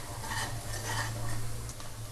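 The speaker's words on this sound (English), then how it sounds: "Fry all of them into golden brown in color in a high flame." Steady low sizzling of onions frying over a high flame in a pan, with occasional soft scraping and clinks of a utensil stirring; no voices.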